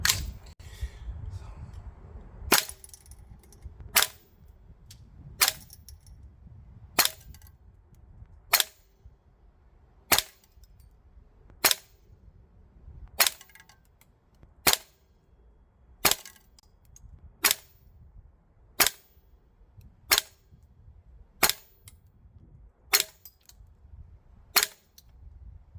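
A RARTEC NPAS airsoft gun running green gas and firing 0.25 g BBs lets off a steady series of sharp, loud snapping shots, about one every second and a half, with no talking.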